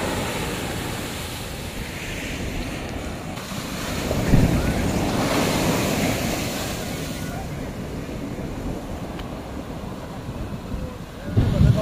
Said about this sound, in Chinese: 这浪大就不适合游泳了，没法游泳，太危险。